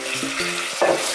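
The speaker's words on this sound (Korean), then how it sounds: "이렇게 해서 버터가 다 녹았으면요 요때 고기를 넣어주세요." Raw beef hits melted butter in a pan for stir-fried gochujang and sets off a close, lively sizzle with a short stirring scrape, brief and unaccompanied by speech.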